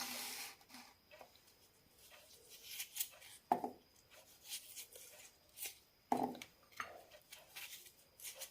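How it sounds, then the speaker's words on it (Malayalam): A knife cuts a tough, peeled mudavattukal tuber into small pieces, giving sparse, faint, irregular chops and scrapes against a board in a quiet kitchen. "മുറിച്ചെടുക്കുമ്പോഴും കുറച്ച് ശ്രദ്ധിക്കണം നല്ല ബലമാണ് ഈ കിഴങ്ങ്"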